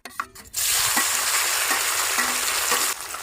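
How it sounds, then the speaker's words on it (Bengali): Paneer pieces frying in hot oil in a pan, a loud steady broadband sizzle that starts abruptly and holds for about three seconds, with faint scraping and stirring clicks underneath and no talking. "এবার আমাকে পনিরগুলো গরম করে নেবো ভাইজে নেবো"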